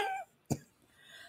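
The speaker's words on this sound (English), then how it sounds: "I have got a cough, which is not quite going away." A single sharp cough bursts out close to the microphone after a brief trailing bit of voice, then faint room noise.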